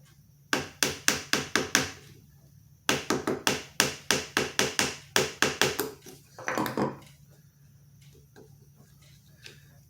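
Gentle tapping knocks a plastic nut out of a Gibson SG guitar: crisp, close taps in quick bursts of about six strikes, a pause, then another run of around ten, then a brief scrape, before it fades to quiet.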